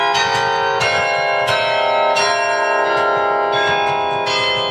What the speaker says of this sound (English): the clapper is pulled against the bell, making the bell ring